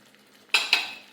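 Two quick scraping stirs in a pan of fried chicken in masala, close and fairly sharp, following a quiet low background.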